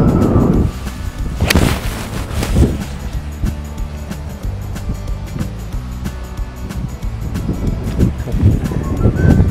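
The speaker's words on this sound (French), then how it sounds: "Donc là, en plus il y a du vent." Left-to-right wind gusting across a golf course at Golf Club de Salouel, a continuous loud rumble of buffeting on the microphone with a few stronger bursts and a low, steady hum underneath.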